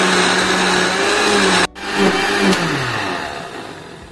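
A juicer mixer grinds carrot and ginger with water, a loud steady motor whine that cuts out abruptly, then restarts and spins down gradually to quiet; no talking.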